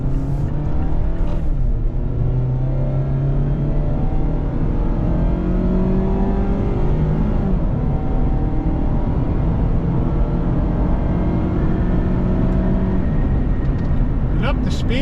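A 2024 Mazda MX-5 Miata RF Grand Touring with its retractable hardtop cruising at highway speed, steady loud engine drone, road roar and wind noise heard from inside the cabin, with someone talking throughout.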